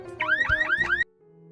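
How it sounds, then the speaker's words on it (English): A Jeep's car alarm wails in rapid rising sweeps, four quick cycles, loud and close, then cuts off abruptly leaving a faint low hum. "Yoon-jae tries opening up the Jeep to get her bike, but the alarm goes off, so Yoon-jae quickly walks off."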